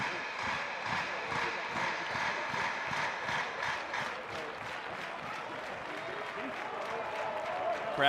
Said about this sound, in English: Crowd getting loud here again.